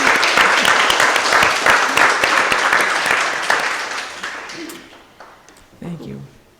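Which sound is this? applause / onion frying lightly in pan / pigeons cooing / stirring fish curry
applause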